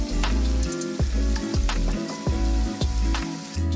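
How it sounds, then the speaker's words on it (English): Ground beef browning in a hot pan, a loud continuous sizzle with crackling pops, broken by regular scraping stirs of a utensil against the pan, close up. "we're going to cook our ground beef until it's brown all the way through"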